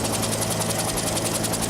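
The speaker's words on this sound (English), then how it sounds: "The main working part, you can see some parts spinning in here, is the engine, which is a turbine engine." A helicopter's turbine engine runs steadily, giving a dense whine and roar with a fast rhythmic rotor chop pulsing throughout, loud and close, with no speech.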